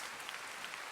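Audience applause at a fan battle contest, a brief, even burst of faint clapping with no voices over it.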